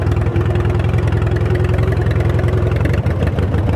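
A car engine runs steadily while driving, giving a loud, even, low rumble with a slight hum and no clear revving.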